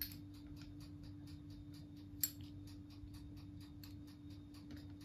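A steady series of quick, light knife taps on a board cutting thin strips of puff pastry, with one sharper click partway through, close and fairly quiet over a low hum.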